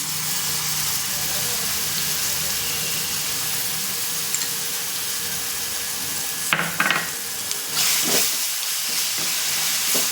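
A constant loud sizzle of raw mango pulp frying in a hot pan, with brief stirring clatters toward the end and a voice speaking over it.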